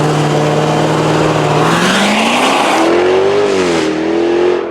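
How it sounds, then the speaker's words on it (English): A 2024 Jaguar F-Type R75 all-wheel-drive convertible accelerates with a loud, close engine roar that climbs in pitch through the gears and holds a steady, strong drone throughout. "Let's go for a drive."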